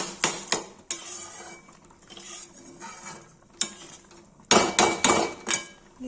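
Spoon stirring and scraping carrot halwa in a metal pan: irregular metallic clinks and scrapes, some sharp knocks against the pan, close and moderately loud with quieter stretches between.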